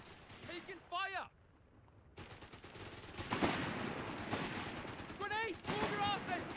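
Heavy gunfire from a Company of Heroes 3 battle between British and Wehrmacht forces crackles in dense, sustained bursts, with shouting voices breaking in near the start and end.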